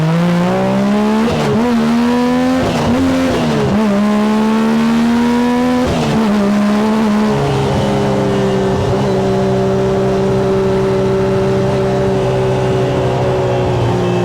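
The engine of a Yamaha YXZ 1000R side-by-side revs hard while driving, loud and close, with several quick rising-falling surges through short gear changes, then settles into a steady high drone.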